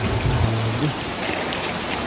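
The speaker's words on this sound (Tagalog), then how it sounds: "patuloy pa rin ang malakas sa pagbuhos ng ulan" Heavy rain from Typhoon Kristine pours down in a dense, continuous hiss of drops drumming on surfaces, close and steady throughout.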